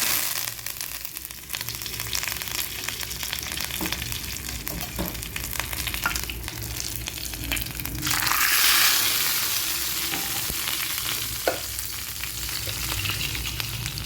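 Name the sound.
dried red chili, mustard seeds and cumin frying in oil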